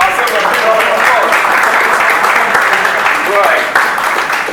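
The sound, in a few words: audience round of applause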